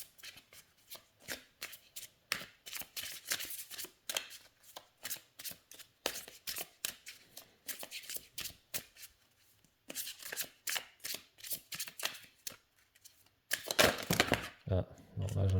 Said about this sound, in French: Alors les cartes se mélangent bien. Elles se mélangent très bien,